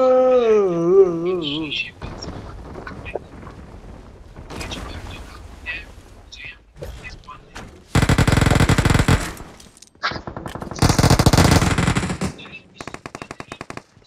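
Automatic gunfire in PUBG Mobile, loud dense bursts of several seconds each alongside smaller scattered shots, with excited voices talking over the action.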